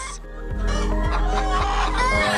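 A flock of about 300 hens clucking in a coop where the birds get special feed for omega eggs; loud, close, layered cackling with repeated rhythmic pulses and no talk over it.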